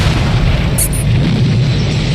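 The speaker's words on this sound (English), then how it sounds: "the store is then struck by lightning, causing a crazy-ass explosion." Explosion after a lightning strike on a store in the horror film Child's Play: a continuous heavy, low rumbling boom filling the whole moment, with a brief bright crackle near the start.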